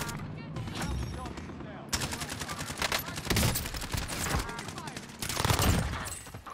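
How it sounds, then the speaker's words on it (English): Dense pistol and automatic gunfire in the video game Call of Duty Warzone, loud and near, firing in rapid volleys mixed with an excited voice talking over the shots. "He's got the fucking pistol!"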